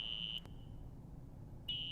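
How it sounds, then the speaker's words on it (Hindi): A fire-alarm style electronic tone sounds in a Hindi-dubbed horror film, a steady high beep that cuts off briefly and resumes near the end, heard alone over a low background hum with no talk. "अलार्म क्या बोल रहा है"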